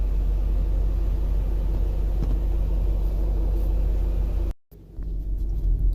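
A 2001 BMW X5 with the 4.4-litre engine and a transmission fault is heard from inside while on a test drive, giving a steady low road and engine rumble. A brief dropout comes before the drone resumes.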